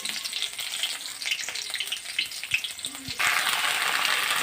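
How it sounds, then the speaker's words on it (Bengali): Black cumin seeds and slit green chillies sizzle steadily as they hit hot oil, a dense crackling fry that swells louder near the end, with a couple of small clinks along the way. "আমি যে ফোড়ন দিয়ে দিচ্ছি কালো জিরা আর কাঁচা লঙ্কা চিড়ে দিয়ে দিয়েছি"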